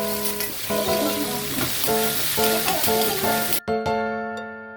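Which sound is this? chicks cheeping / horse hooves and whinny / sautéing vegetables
sautéing vegetables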